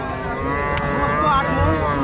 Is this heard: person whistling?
no